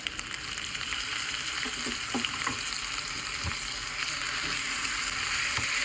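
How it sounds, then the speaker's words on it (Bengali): Tomato paste fries in a pan with ginger-garlic paste for a mushroom, potato and soybean curry, a dense continuous close sizzle with faint scattered stirring knocks. "আমার আদা রসুনটা বাটা ভাজা হয়ে গেছে আমি এবার এখানে দিয়ে দেবো টমেটো পেস্ট"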